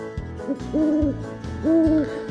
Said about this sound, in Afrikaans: Uil.